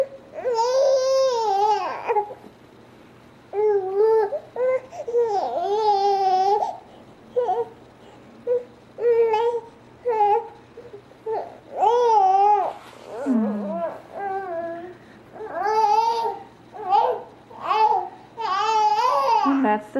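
A frustrated baby fusses and cries during tummy time, with repeated whiny wails and sobbing bursts coming close and loud. The cries arrive in uneven rhythmic spurts with brief gaps between them.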